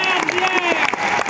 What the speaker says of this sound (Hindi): बीच बीच में तालियां बजाते रहें ताकि मुझे भी उत्साह आता रहे